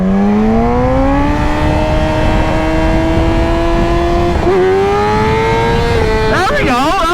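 A motorcycle engine revs continuously and close up, its pitch climbing steadily before dipping and wavering during gear shifts and a wheelie attempt.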